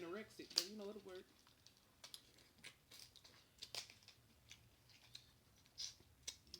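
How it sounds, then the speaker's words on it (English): Kitchen scissors cut through seafood shells during a seafood boil meal, making a run of sharp, close snips and crunches after a short burst of talk. "I'm being bougie with the scissors,"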